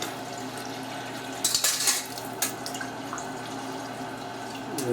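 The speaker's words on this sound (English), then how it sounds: "And I kind of put water in that." Water poured into a pan fitted with a small supermarket steamer insert, a steady trickling splash with a brief louder burst midway, close and alone.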